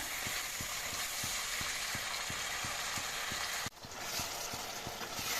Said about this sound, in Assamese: মই এনেদৰে ভাজি থাকিম প্ৰায় দুই তিনি মিনিটমান সময়